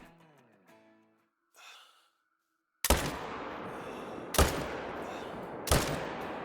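Rifle shots at a bear in Call of the Wild: after a short musical chime and a faint breathy sound, three loud sharp gunshots ring out about 1.5 seconds apart, each trailing into a rolling echo.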